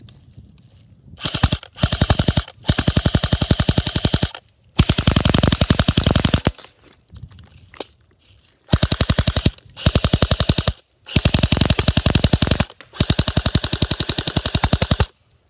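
An LCT AMD65M airsoft rifle with a drum magazine fires full auto in a series of long rapid bursts, each a tight buzzing rattle of shots, loud and close, separated by brief pauses and faint mechanical clicks.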